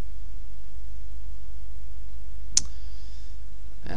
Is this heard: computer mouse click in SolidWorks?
yes